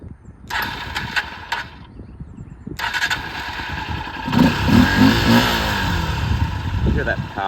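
A Honda XR150L motorcycle is cranked and fires up, with stuttering starter bursts followed by the single-cylinder engine catching and settling into a steady idle close by, a voice speaking over it.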